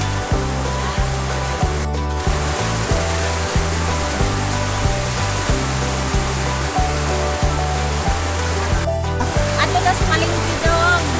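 Heavy rain pours down at the Padre Burgos public market in Southern Leyte, a dense, steady hiss filling the whole stretch with rhythmic music playing underneath.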